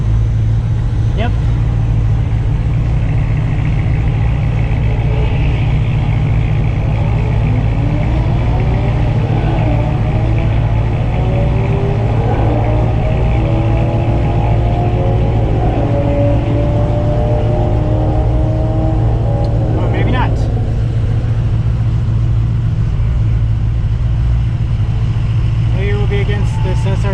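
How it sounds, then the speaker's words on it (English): Engines of a race truck and a Ford GT500 rumble at a race track, a loud constant drone close by with rising and falling revs from an engine accelerating through the middle. "I think we might be up against this race truck."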